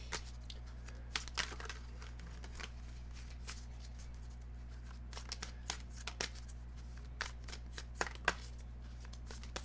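Tarot cards shuffled and drawn by hand, a close, quiet run of crisp riffling flicks and papery slides in irregular bursts over a low steady hum, with no talking.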